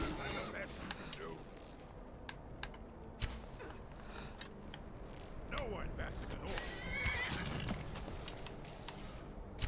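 A horse whinnies amid Skyrim game ambience and clatter, with someone talking over much of it.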